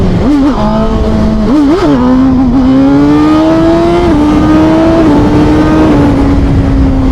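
A 2021 Suzuki GSX-R 1000 motorcycle with a stock quick shifter accelerates hard, its loud engine note climbing in quick stepped upshifts and then holding a high sustained whine close by.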